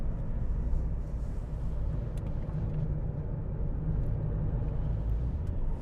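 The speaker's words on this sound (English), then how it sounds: "Tire noise is quite high as well" Steady, loud low road roar and wind noise inside a 2007 Fiat Grande Punto on old tires while driving, a continuous rumble with no break throughout.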